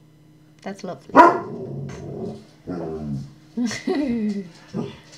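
A dog barks and growls a few times in short bursts near the microphone, mixed in with someone talking during Minecraft gameplay.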